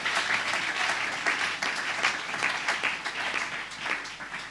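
A congregation at a Sunday church service claps together, a thick, continuous round of applause at moderate distance with scattered sharper hand claps, sustained without letting up.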